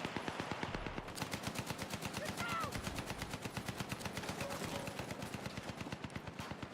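Rapid automatic gunfire from the Mass Effect Andromeda video game rattles in an unbroken, evenly spaced stream of shots for several seconds, fairly faint in the mix.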